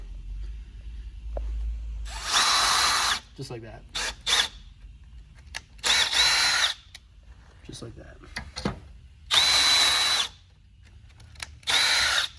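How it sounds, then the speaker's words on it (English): A power drill bores mounting holes through a ski for Dynafit bindings, in several loud bursts of whining drilling separated by short pauses, with someone speaking briefly between them. "right when you feel that drop, that's when you stop drilling, because that's how you know this bit has gone completely through."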